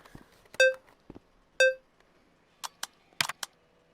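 Camera self-timer in the Rec Room video game, giving two separate electronic beeps about a second apart, then several short sharp clicks and taps near the end, with no talk.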